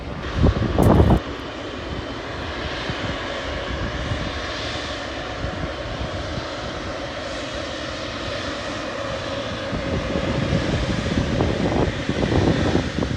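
Emirates airliner engines at Manchester Airport, a steady loud roar that holds throughout and swells toward the end, with a brief sharp knock near the start.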